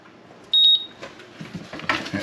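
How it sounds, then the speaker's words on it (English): A Cannon safe's keypad buzzer, on a safe with a failing keypad, gives a short, loud, high beep, followed by quieter clicks and handling sounds. "The buzzer will beep twice."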